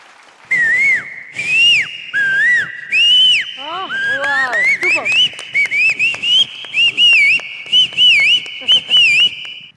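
A voice imitates a cuckoo with repeated loud, clear whistled calls that rise and swoop, delivered in quick succession close to the listener.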